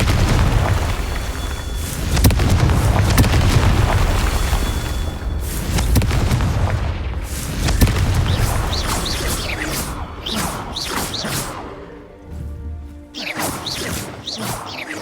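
Repeated heavy booms and crashes from Confringo spell blasts in the video game Hogwarts Legacy, loud and dense at first, then thinning into scattered impacts and rumbles.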